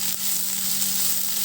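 Ivy gourd (kovakkai) curry frying in a pan gives off a steady, close hiss of sizzling oil with no break, over a faint low hum.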